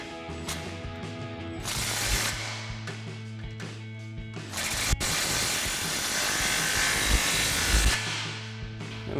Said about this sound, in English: we'll go ahead and tighten down our clamp here using our 13 mil socket on our impact.